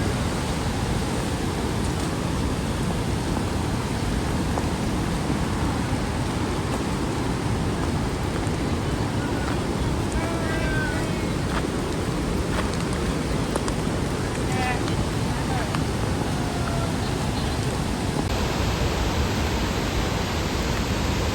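Mallalli Waterfalls in Coorg, swollen by monsoon rain, gives a constant loud broadband roar that fills the scene without a break. Heavy rain mixes into the wash of falling water.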